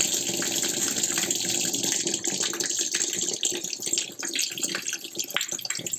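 Water gushes from a hose or tap into the tub of an LG 9 kg semi-automatic top-loading washing machine, a loud continuous splashing rush with shifting turbulence, close and alone.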